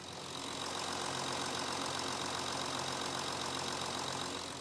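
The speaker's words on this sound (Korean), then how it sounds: "엔진 소리도 한번 들려드릴 건데 휘발유 엔진보다 정숙하진 못하지만 그래도 소리의 패턴이 일정하다는 거 한번 같이 들어봐 주세요." An Audi A6 3.0 TDI quattro diesel engine idles with a steady, even clatter and hum that fades in, holds constant, then tapers at the end, with no voices.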